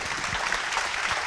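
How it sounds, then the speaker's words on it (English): Audience applause at a startup pitch competition, a steady dense wash of clapping throughout the short stretch, moderately loud and without voices. "Let's give her a big round of applause."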